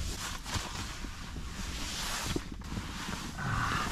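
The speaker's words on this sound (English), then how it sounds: "every once in a while I can hear the wind just shake this thing crazy" Strong gusts buffet a homemade camper on a freezing night, a steady roar of wind with occasional thumps and rattles as the structure shakes, no voices.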